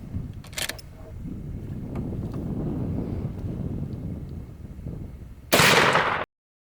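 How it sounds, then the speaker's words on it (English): A single loud rifle shot of a .45 Long Colt fragmenting copper round into a ballistics gel block bursts out near the end, after several seconds of outdoor wind rumble and faint handling noise, then cuts to silence. "Let's go ahead and try another fragmenting round on that gel block and see what it does out of the rifle."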